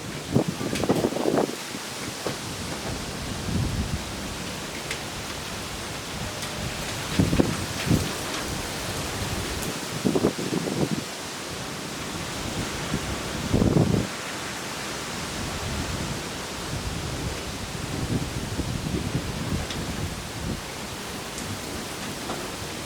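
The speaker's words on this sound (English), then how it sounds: "here comes the rain" Rain pours down during a derecho wind storm, a steady hissing wash with gusty swells, while people talk intermittently over it.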